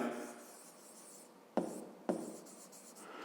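A pen scratches continuously on paper close by while a math solution is written out, broken by a few sharper taps of the pen.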